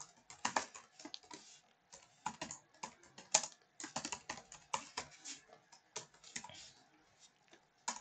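Computer keyboard typing while writing JavaScript code, a steady run of quick, close key clicks in irregular bursts with short pauses.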